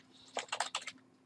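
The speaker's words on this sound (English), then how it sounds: "you would type in make code." A short burst of keystrokes on a computer keyboard, about five or six quick clicks clustered together, fairly close and alone against a quiet room.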